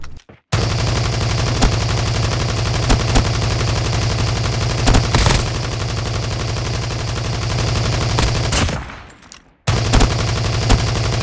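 Rapid sustained gunfire while aiming down sights in a shooter video game, loud continuous bursts with brief pauses, cutting out near the end before firing resumes.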